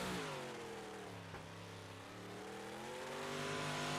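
A small block modified race car on a qualifying lap at Lucas Oil Speedway, its engine droning steadily with pitch shifts as it passes, heard alone without talk.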